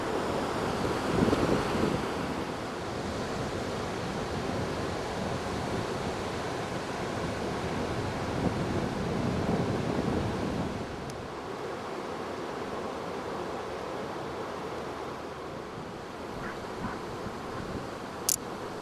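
Sea waves on a beach in South Cornwall, a continuous broad wash of surf mixed with wind buffeting the microphone, louder in the first half and then settling to a softer steady roar.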